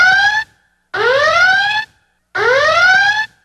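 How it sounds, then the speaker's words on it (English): Three loud rising electronic alarm wails in a warning sign sound effect, the first short and the next two longer, separated by brief silences, with no voices. "that's the warning sign alarm"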